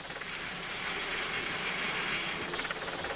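Steady, loud broadband rotor and engine roar of a helicopter flying above the Tour de France race, continuous and close with no talk.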